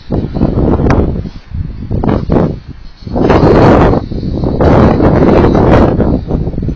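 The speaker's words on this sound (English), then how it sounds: "the wind's picking up now" Strong outdoor wind buffets a camera's onboard microphone, loud, rumbling gusts that surge and briefly drop away before roaring back continuously.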